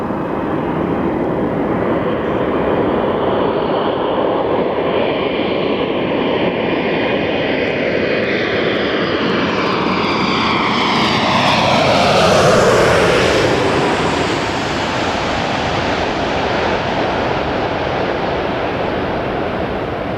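A United Boeing 787-10 heavy jet airliner lands at LAX, a loud sustained roar building and sweeping past close by around the middle, then easing off, with no talk.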